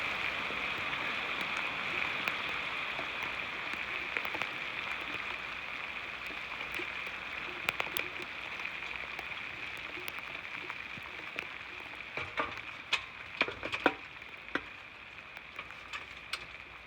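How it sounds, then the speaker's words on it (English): Rain falls on surfaces in Florida, a soft steady hiss with scattered faint ticks and drips, distant and low in level, with no one talking. "Of course it would start raining."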